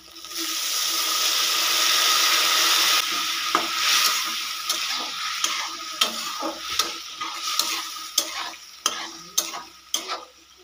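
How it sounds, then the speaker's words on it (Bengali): Spiced potato and eggplant sizzle loudly in a pan, then water is poured in and the sizzle drops, followed by a series of sharp stirring scrapes and knocks of a spoon against the pan. "এবারে আমি এর মধ্যে অ্যাড করে দেবো 1/2 কাপ মতো জল।"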